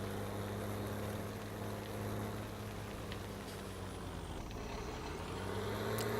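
A harvester engine drones steadily in Farming Simulator 17, a constant low rumble with a faint high whine, as the machine drives back to the farm.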